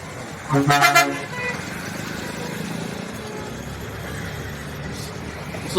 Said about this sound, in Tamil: அதற்கான ஒலிப்பான் தான் இது.